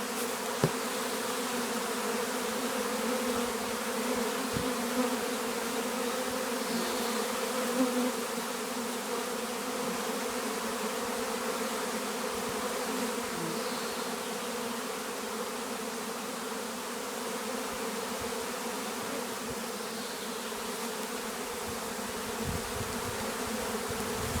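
Steady, unbroken hum of a honey bee swarm, a low droning buzz that holds at an even level throughout.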